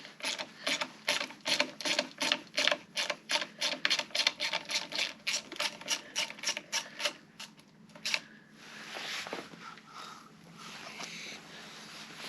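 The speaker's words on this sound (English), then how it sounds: "So let's take the nut off first." A wrench loosens the nut on the lever of a Royal Enfield Himalayan motorcycle with a rapid series of close, even ratcheting clicks. The clicks stop after about eight seconds, and softer handling noise follows.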